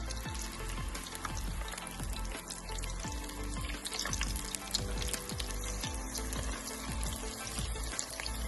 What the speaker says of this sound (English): So we'll start chucking the potato chips in.